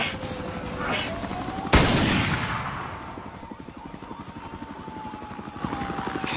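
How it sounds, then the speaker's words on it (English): A sharp, loud gunshot in the video game Zero Hour: Columbine cracks out and rings into a long decaying echo, followed by a rapid chopping helicopter-like rumble that continues throughout. "I heard some more banging, you know, gunshots."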